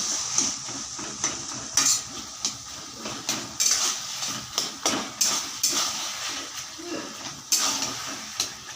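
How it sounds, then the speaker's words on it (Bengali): A spatula stirs taro stems with shrimp in a pan, producing repeated loud metallic scrapes and clanks in an uneven rhythm over a low background sizzle. "এভাবে করে খুন্তি দিয়ে ভালো করে নাড়াচাড়া করতে হবে"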